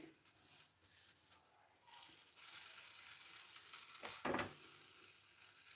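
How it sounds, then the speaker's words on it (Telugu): Bread slices toasting on a hot pan for a vegetable sandwich with capsicum, tomato and onion give a soft, steady sizzle, with a brief louder scrape or stir near the end. "పెనం మీద కాల్స్తున్నానండి అంతే టోస్ట్ చేస్తున్నాను"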